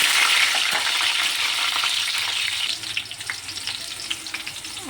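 Green chillies frying in hot oil in a pan at the start of an egg curry, giving a loud, steady, close sizzle with scattered pops and crackles throughout and no talking.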